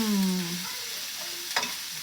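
Peppers and onions hit a buttered pan with a low steady sizzle, a brief fading tone at the start and a short clatter near the end.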